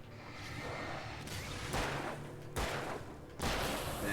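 Gunfire in the video game Alan Wake, three or four sharp, heavy shots spaced about a second apart, each with a booming decay, fairly close and loud with no talk.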